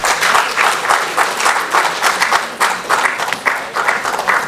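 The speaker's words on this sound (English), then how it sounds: "Please give them a round of applause." Audience at a fireside chat panel event applauds the speakers invited onstage, a steady, loud burst of many hands clapping that holds evenly throughout.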